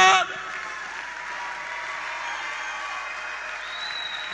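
Church congregation at a Morning Glory service raising a sustained roar of cheering and shouted praise with clapping, loud and steady throughout, with a bright whistle-like cry rising near the end.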